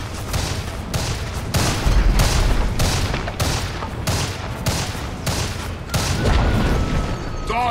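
Dota 2 battle sounds play as a tower comes under attack, with dense, loud and continuous rapid booming impacts and fire effects pulsing steadily throughout.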